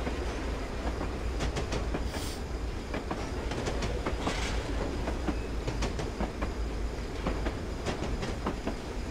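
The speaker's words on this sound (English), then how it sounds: "We're on 1 in 67 and I'm trying to get the train slowed down." BR Black 5 steam locomotive in Train Simulator on the West Highland Line South, working down a 1 in 67 gradient while slowing, with steady rolling rumble, rhythmic clickety-clack of wheels over rail joints and brief hissing, continuous and close.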